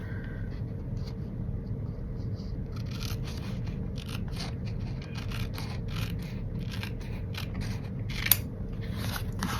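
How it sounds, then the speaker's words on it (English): Repeated crisp snips of scissors cutting through paper, close by, in an irregular rhythm over a low background rumble. "There's my scissors."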